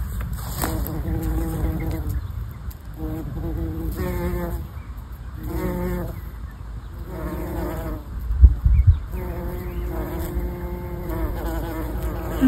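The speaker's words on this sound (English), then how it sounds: "These masses of pink flowers, absolutely beautiful, and plenty of bees buzzing as well." Bees buzz around masses of pink flowers outdoors, close wavering drones that come and go in several bursts, with a brief louder bump near the end.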